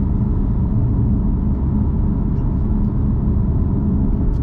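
Steady low road roar and tire rumble inside a 2016 BMW M3 Competition on 20-inch wheels, driven in comfort mode; a constant broadband drone with no talking.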